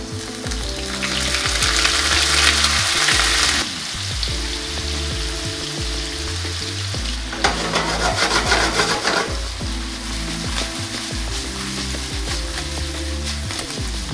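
Radishes with a golden crust sizzle steadily in a hot pan as honey and vinegar are added, a continuous crackling fry with a few louder bursts of hiss and occasional scraping, no voices.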